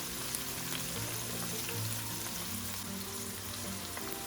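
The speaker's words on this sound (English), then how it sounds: "spring onion, I don't want to fry it and make it brown" Spring onion with sliced garlic softening gently in a frying pan, giving a steady, soft, close sizzle that holds even throughout with no talking.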